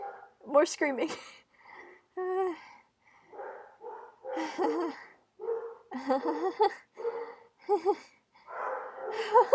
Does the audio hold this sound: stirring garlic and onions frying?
no